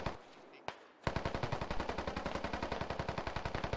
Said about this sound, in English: I got some fire being shot back and forth between the militia and Russians at the northern bridge